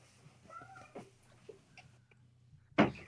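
Cats meowing indoors: a few soft, fairly close tonal meows with light shuffling between them, then a sudden louder burst near the end.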